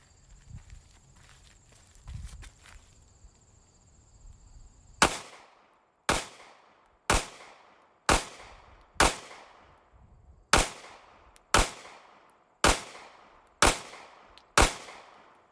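Sig Sauer P365 pistol fires twelve loud, sharp shots in a steady rhythm, each crack ringing out with a short decay, after a few seconds of quiet handling and background noise.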